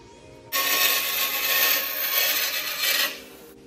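Screws are cut to matching length for a car diffuser build, making a loud, continuous grinding rasp close by for about two and a half seconds, then stopping abruptly.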